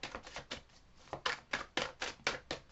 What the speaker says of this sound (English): Oh, this deck is shuffling nicely.